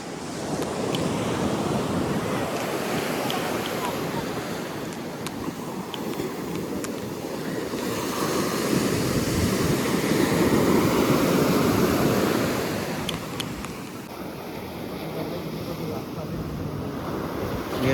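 Waves roll in at Oho beach in Kerala, a continuous rushing surf that swells in the middle and eases off, mixed with wind buffeting the microphone.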